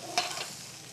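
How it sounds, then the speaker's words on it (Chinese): Deveined shrimp hitting a pan of hot sesame oil, a sudden close sizzle burst that settles into a softer steady frying hiss within a second, with no talking. "这时候我们就下去煎了哈"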